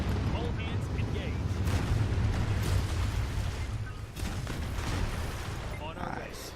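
A giant rocket launch explosion in the futuristic city-building game Anno 2205 gives a sustained, loud low rumble with crackling bursts that continues steadily for several seconds.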